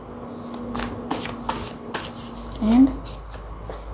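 A large deck of playing cards being shuffled, several quick riffling bursts close by, with someone talking briefly over them.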